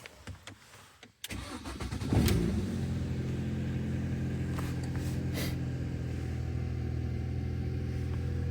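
A Mini R50 with an ABS fault cranks briefly, then its engine catches with a loud burst and settles into a steady, close idle that runs on to the end.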